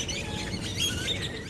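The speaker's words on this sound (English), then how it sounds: "will remember more birds singing in the spring" Birdsong played from a recording in spring: a few faint high chirps and tweets rise over a hissy background for a moment.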